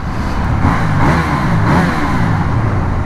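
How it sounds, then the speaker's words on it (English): A KTM 890 Duke R motorcycle engine revs steadily up close, its mid-pitched roar swelling slightly and then holding a constant loud drone. "sounds nice. And I feel no heat from this engine so far"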